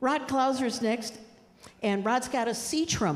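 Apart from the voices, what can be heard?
No distinct noise like a dog, phone or traffic.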